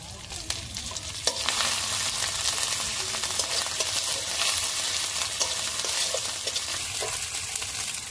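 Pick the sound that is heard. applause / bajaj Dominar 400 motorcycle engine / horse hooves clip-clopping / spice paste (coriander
spice paste (coriander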